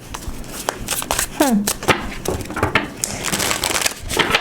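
Tarot cards are shuffled and riffled close up in quick rustling bursts, with a short voiced sound partway through.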